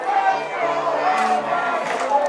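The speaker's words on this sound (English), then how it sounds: "Looks like some of the Hoppers fans starting some chants in the crowd" Hoppers fans chant in the crowd at a USPBL baseball game between the Eastside Diamond Hoppers and Birmingham-Bloomfield Beavers, a steady sung tone from many voices sounding fairly distant and continuous for a couple of seconds.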